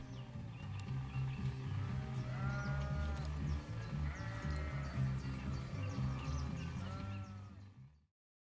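Several sheep in a neighbouring field in Cornwall bleat repeatedly in overlapping calls, moderately distant, over a low background murmur, then the sound cuts off.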